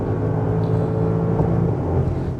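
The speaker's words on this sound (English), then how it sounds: "the pure rawness of the V8 coming through that exhaust. It sounds so good." A 2025 Audi SQ8 with a 4-liter biturbo V8 cruises on the Autobahn, a steady deep engine and exhaust drone with a low rumble and faint whir heard from inside the car.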